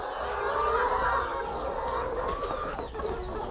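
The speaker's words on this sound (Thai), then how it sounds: "อันนี้เป็นไก่ที่ไอ้โรดเพิ่นเอาให้เนาะเอามาแยกต่างหากก็เป็นพวกอนาไก่น้อยเนาะ" Young chickens in a pen on a laying-hen farm cluck and chirp in a busy overlapping chorus, close and fairly loud, with sharper calls breaking through now and then.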